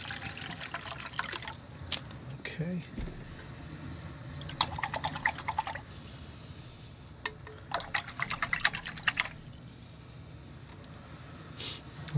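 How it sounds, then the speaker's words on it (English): Bottled water trickles and pours into a paint-rinse container in several short bursts, close and fairly quiet, with a brief spoken word early on. "I'll use some handy bottled water here."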